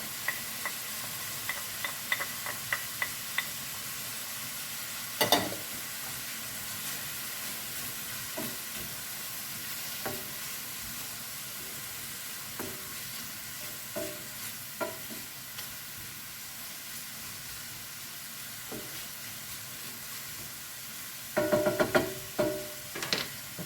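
Garlic and ginger frying in a pan, a steady soft sizzle broken by scattered clicks and scrapes of stirring, with a louder clatter near the end.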